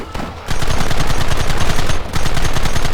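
Gunfire in the Red Dead Redemption video game: rapid, loud bursts of repeated shots in a dense rhythmic volley, briefly pausing before resuming with no voices over it.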